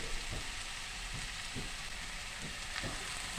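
Banana stem frying over lowered heat with turmeric, chili and coriander powder and salt, giving a constant soft sizzle with faint periodic stirring scrapes and no voices.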